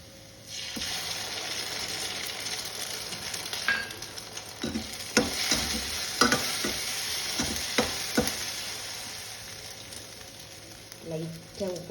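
An egg frying in a pan for egg rice crackles and sizzles steadily up close, punctuated by several sharp clicks and taps of a spoon or spatula against the pan.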